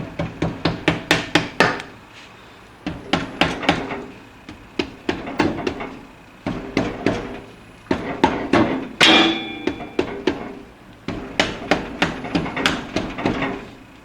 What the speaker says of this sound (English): It's a rubber hammer